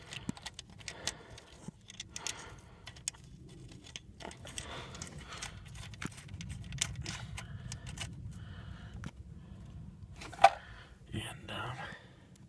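A nut is spun by hand onto an upper ball joint stud on a 2000 GMC Sierra, producing soft, scattered metallic clinks and rattles close by, with a louder clink near the end and quiet talk in the background.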